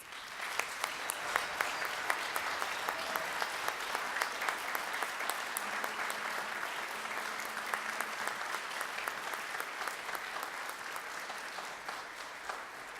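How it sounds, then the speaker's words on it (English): Sustained applause from an audience at a haiku festival, honoring student poets on stage, dense and even throughout with scattered sharper claps, loud and continuous without a break. "let's give them another round of applause"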